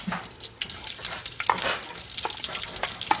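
Curry leaves, onions, garlic and green chili fry in hot oil with fenugreek for a pumpkin curry, giving a steady, close crackling sizzle with intermittent scraping and stirring noises throughout.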